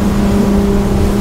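Silvercat 34CC catamaran under way on twin Yamaha 300hp outboards, a loud, steady engine drone close by with a strong sustained hum and constant water-rushing wash.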